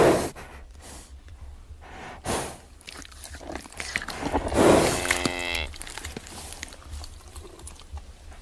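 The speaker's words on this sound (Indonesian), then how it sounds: "Ini sapi, teman-teman." A cow lets out one long, drawn-out moo partway through, preceded by scattered rustles and snorting breaths, with no talk.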